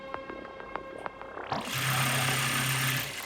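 A sewing machine stitches the side seam of a pencil skirt, starting with a few ticks and clicks, then running in a steady, close whirring hum for the last couple of seconds.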